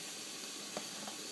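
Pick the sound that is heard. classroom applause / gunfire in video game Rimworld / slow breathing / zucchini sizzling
zucchini sizzling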